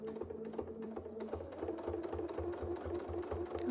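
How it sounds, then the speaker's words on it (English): Sewing machine stitching tacking stitches during free-motion quilting: a soft, rapid mechanical chatter in short bursts that settles into a steadier running hum, quiet and close. "So let's tack it in, put our tacking stitches right here."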